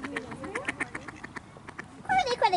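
Ducks on the Goulburn River in Victoria quack in a quick series of harsh, close calls near the end. Before that come scattered peeps and voices nearby.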